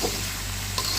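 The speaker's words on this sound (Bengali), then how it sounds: "গরম জলটা দিয়ে দিচ্ছি" Hot water hitting chicken curry frying in a pot, a loud, continuous sizzle and bubbling hiss, close up.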